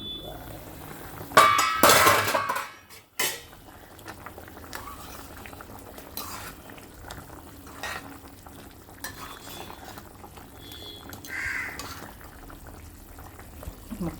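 Curry with meat pieces and curry leaves bubbling in a pot, a steady close simmer broken early by a loud burst of clattering and stirring, then settling into a low continuous boil.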